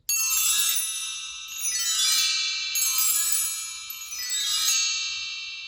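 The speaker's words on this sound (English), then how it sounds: "This is a bell tree." A bell tree, a vertical stack of small untuned bells, is swept repeatedly, and each bright shimmering cascade rings out and decays before the next. There are four clear strokes, heard alone and close.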